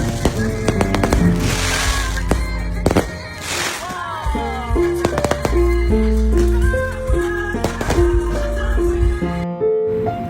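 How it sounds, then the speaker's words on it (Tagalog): Wedding fireworks in Siargao bursting together, a dense run of cracks and booms layered over loud music throughout, with crowd noise in the background. "Napakaganda ang fireworks, sabay-sabay ang putukan."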